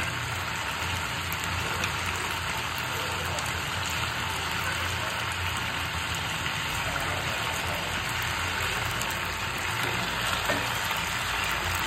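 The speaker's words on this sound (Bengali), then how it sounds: "চিকেনগুলোকে এবার একটুখানি ফ্রাই করে নিচ্ছি, একটু অলিভ অয়েল দিয়েছি আর অল্প একটু বাটার দিয়েছি" Chicken pieces fry in a pan of olive oil and a little butter, giving a steady, even sizzle that holds at a constant level throughout with no voices.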